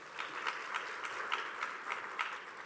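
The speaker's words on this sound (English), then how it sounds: "I actually want you to give yourself a round of applause for it." Graduates at a university autumn graduation ceremony in Pietermaritzburg clap for themselves, a steady, moderately distant wash of applause from a large seated crowd with scattered sharper claps.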